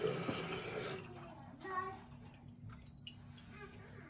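Water rushes into a toilet tank through the fill valve, a steady, close hiss of running water that thins slightly toward the end, with faint voices in the background.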